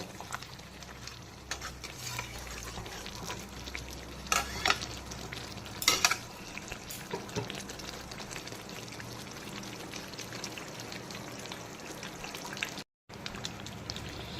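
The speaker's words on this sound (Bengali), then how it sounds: "আলুগুলোকেও চিকেন আর মশলার সঙ্গে প্রায় 10 মিনিট সময় নিয়ে ভালো করে আবারও কষিয়ে নিলাম।" Chicken, fried potatoes and spices stir-fried together in a pan for a chicken malai curry, a steady sizzle with frequent scraping stirs and a few louder clatters, no voices.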